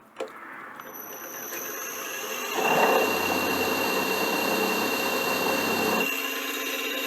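A milling machine cuts a wiper arm, holding a steady whining drone with a thin high tone above it. The cut grows louder and rougher midway, then eases back to the idling hum, close by and without talk.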